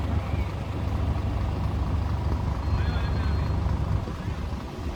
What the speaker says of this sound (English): there's another concrete vehicle over there, look